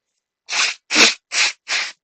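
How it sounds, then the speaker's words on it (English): A person blows their nose in four short, forceful bursts, close and loud, with brief pauses between each blast. "Sorry, I've got to blow my nose."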